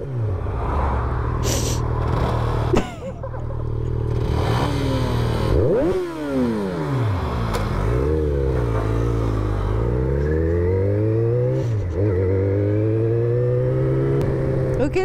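A 125cc motorcycle ridden on a road, its engine loud and close, rising and falling in pitch through repeated gear changes and throttle swells over wind noise.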